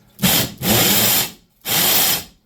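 Regular drill mode running on a power drill during a mini split air conditioner heat pump installation, three bursts of loud, close whirring with brief pauses between trigger pulls, no talking.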